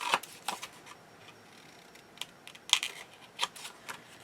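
Scissors snip at the corners of a paper Christmas wallet, producing a handful of sharp, close clicks and cuts at irregular intervals against a quiet room.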